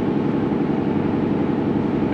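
An air compressor runs in a garage stall about fifty yards away, producing a constant, dense mechanical roar with no pauses and no voices over it.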